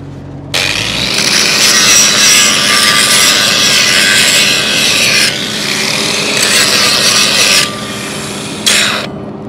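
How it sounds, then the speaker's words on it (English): An angle grinder grinds back a blown-out 6010 pipe weld, a loud, steady abrasive rasp that runs almost continuously, with a few brief dips and a short break near the end. "I'm gonna grind this back down."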